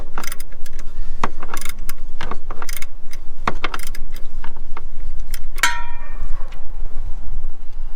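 A socket wrench works a 15 mm bolt on the alternator of a 1996 Jeep Grand Cherokee ZJ, giving close, sharp metallic clicks and clanks in irregular bursts, with a faint ringing rattle near the end.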